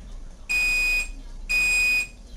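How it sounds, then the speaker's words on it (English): A kitchen timer alarm beeps in two loud, shrill bursts of about half a second each, evenly spaced and close by in a quiet room. "And there goes our timer."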